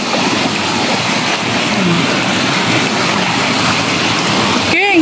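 Stream water rushes continuously at a clear-water bathing spot, a broad steady wash of flowing water close by, with brief voices or calls cutting in near the end.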